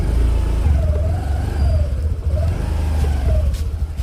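A scooter engine runs and pulls away, a steady mid-pitched motor drone that rises and dips as the rider accelerates, close and loud the whole time.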